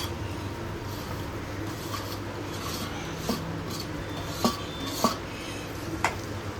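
Cooked mango and powdered jaggery being stirred in a pot for mango pachadi make quiet scraping, punctuated by a few sharp spoon clinks against the pot.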